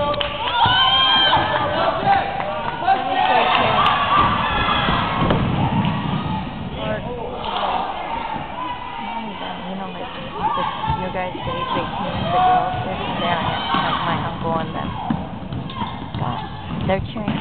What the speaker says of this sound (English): They're cheering for them.